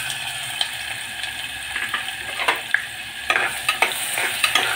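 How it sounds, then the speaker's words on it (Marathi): Onion sizzles and crackles as it fries in hot oil in a pressure cooker on a gas stove, a steady loud hiss with scattered pops and stirring scrapes and no voices. "तेल तापलेलं आहे. आता त्यामध्ये प्रथम आपण कांदा टाकतोय."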